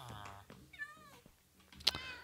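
A Minecraft cat meows several times in a hardcore survival game, clear short mewing calls spaced across the moment, fairly quiet with a sharp game click near the end.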